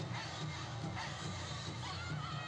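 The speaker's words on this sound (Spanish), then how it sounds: "esa ovación, esos gritos" A concert crowd roars with sustained ovation and shouting during a song, a dense, continuous wash of cheering voices that stays fairly faint and distant throughout.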